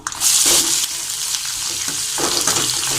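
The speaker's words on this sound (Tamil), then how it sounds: "வெங்காயம் நல்லா வதங்கட்டும்" Onions sautéing in a pan for South Indian idli upma, a bright steady sizzle with a louder burst near the start and occasional stirring scrapes, close and continuous with no talking.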